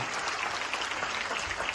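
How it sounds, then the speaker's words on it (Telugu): An audience at a children's church event claps in brief, dense, steady applause. "గట్టిగా చప్పట్లు కొడదండి"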